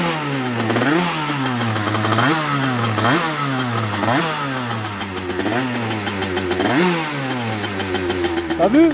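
A 2013 Gilera SMT motorcycle fitted with a 28 PWK carburetor and an 88 Stage6 kit, revved repeatedly in loud close bursts that rise and fall back toward idle, ending in a choppy, stuttering run as the throttle drops.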